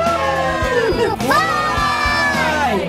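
Kentucky fans raise a loud burst of crowd cheering with shrill whoops and shouts that rise and fall over a few seconds.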